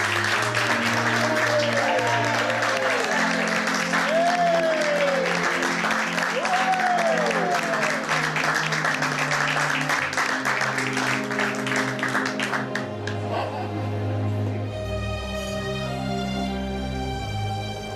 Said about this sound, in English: Will you give them, please, your best round of applause?